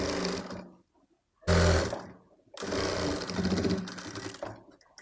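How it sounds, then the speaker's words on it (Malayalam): A sewing machine stitches fabric for a baby's short top, running in close, loud whirring bursts separated by brief pauses. "അതേപോലെ തന്നെ നമുക്ക് ബാക്ക് സൈഡും ഫോൾഡ് ചെയ്ത് സ്റ്റിച്ച് ചെയ്യാം കേട്ടോ."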